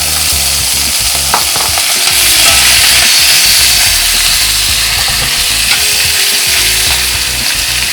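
Half-frozen New York strip steak meat frying in olive oil in a pan, a loud, dense, continuous sizzle close up with faint stirring and scraping.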